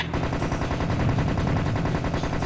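Rapid automatic gunfire in the Serious Sam HD: The First Encounter video game sounds as a loud, continuous machine-gun rattle of fast repeated shots, close and alone.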